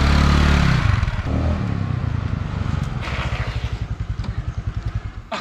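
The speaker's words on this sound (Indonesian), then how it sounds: "Oke guys, gue udah nyobain motornya." A yellow motorcycle, a new 2023 model, runs close by with a loud engine that revs hard at the start, then settles into a steady, rapidly pulsing idle-like putter with some clatter, and no talk.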